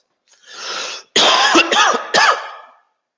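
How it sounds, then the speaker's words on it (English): A person with flu coughs several times in quick succession, harsh and close, after a short breathy throat clearing. "I'm very sorry, I'm having some kind of a flu, excuse the cough"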